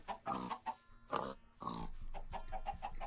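Pigs oinking in the video game Minecraft: several short grunts and snorts in quick uneven succession, soft and a little distant, with no talk over them.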